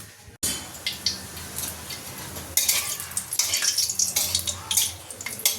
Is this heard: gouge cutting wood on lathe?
no